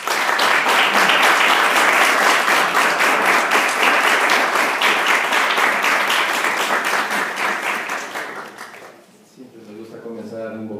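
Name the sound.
audience applause welcoming a speaker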